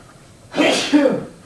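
A single loud sneeze bursts out in a lecture hall, one sharp explosive burst lasting under a second, nearby and clear against a quiet room.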